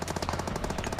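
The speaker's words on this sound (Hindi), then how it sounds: "बगल पे बंदे अपार्टमेंट पे बैठे, ये देखो गोली चला रहे" Rapid automatic gunfire from the mobile battle-royale game BGMI rattles in a fast, even burst of closely spaced shots, loud and alone for about a second.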